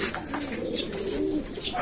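Racing pigeons coo at a loft in soft repeated murmurs over a continuous low rustling background, with bright short chirps breaking in near the start and end.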